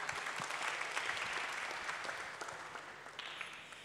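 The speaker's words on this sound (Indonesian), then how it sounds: "Tepuk tangan dulu dong untuk panjenengan." Steady applause from an audience at a pesantren (Islamic boarding school) seminar, a dense wash of many hands clapping continuously for several seconds and easing slightly toward the end.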